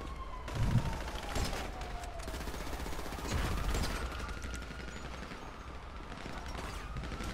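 Bursts of gunfire crackle in the video game GTA 5 over a constant game-sound background, with several louder volleys rising and fading across the stretch.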